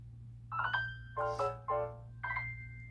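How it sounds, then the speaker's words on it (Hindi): A phone message notification tone on a mobile banking money transfer plays as a short series of four clear melodic chimes over a steady low hum. "हमें मैसेज भी आ चुका है"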